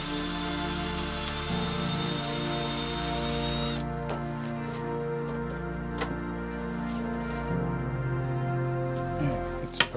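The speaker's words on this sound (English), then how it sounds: "I can drill this hole here." A power drill bores a hole in wood for a homemade serving trolley: a steady, loud motor whine runs throughout, with its pitch dropping after a few seconds and a few light knocks near the end.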